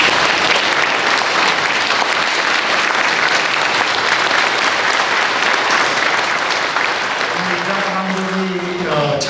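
Loud, dense applause from an audience at a Korean church commemoration event, a steady wash of clapping that runs almost the whole time, with a voice beginning at the end.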